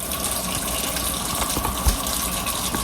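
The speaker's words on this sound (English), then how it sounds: "I'll rinse them individually" Tap water runs steadily while carrots are rinsed one by one in a kitchen, a continuous close splashing gush with a brief louder splash near the middle and no talking.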